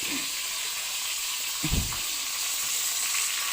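Tilapia fries in a pan with a steady, close hissing sizzle of hot oil throughout and a brief low clunk partway through, with no talk.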